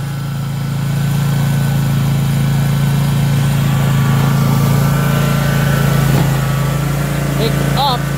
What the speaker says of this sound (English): Pick up the snow blower!